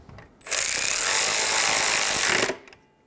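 A ratchet snugs down the bolt holding a radiator fan resistor on a 2000-2007 Ford Focus, one sustained rapid clicking burst lasting about two seconds, close and loud with no talk.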